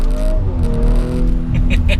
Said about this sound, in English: exhaust sound indicates to me the mindset of Abt, because it doesn't shout at you.